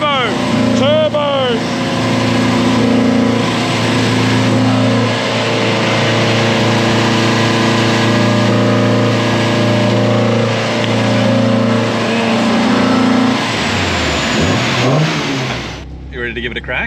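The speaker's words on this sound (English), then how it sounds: "This is VTEC. We've got VTEC." A Honda Civic engine revving hard on a dyno with VTEC, a loud sustained high-rpm roar with rising and falling pitch, easing off near the end, with people talking and shouting over it.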